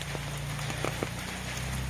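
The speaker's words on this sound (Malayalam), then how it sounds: "നല്ല മഴയായിരുന്നു കേട്ടോ നല്ല സൗണ്ട് കേൾക്കുന്നുണ്ടാവൂലേ" Steady, dense rain hiss fills the background, with a few sharp drip-like ticks scattered through and a low constant hum underneath.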